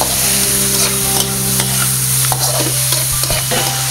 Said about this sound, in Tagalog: Halo lang ng halo.